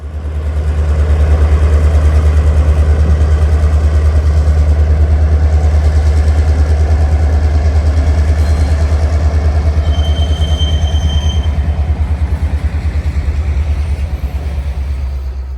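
An EMD GP38-2 diesel locomotive and a second locomotive idle in a Florida rail yard, giving a loud, steady low engine rumble that holds throughout with no break and no talking.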